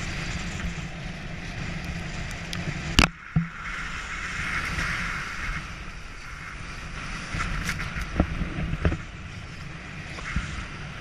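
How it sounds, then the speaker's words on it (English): A sailboat rolls and pitches in lumpy open seas on passage toward New Zealand, with steady wind and water rush, creaks, and a few sharp knocks and bangs of gear shifting aboard. "The seas are rather lumpy."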